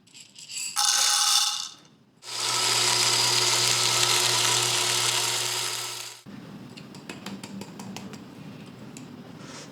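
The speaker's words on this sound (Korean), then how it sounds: "원두는 이렇게 갈아서 준비를 했고요." An electric grinder whirs steadily as it grinds coffee beans for hand-drip brewing, a close, loud mechanical buzz after a short burst, followed by quieter rattling and clicks.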